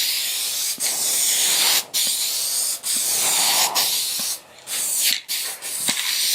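Close bursts of a spray gun laying a coat of finish on furniture, a loud, steady hiss broken by short pauses between passes, several strokes in a row with no voice.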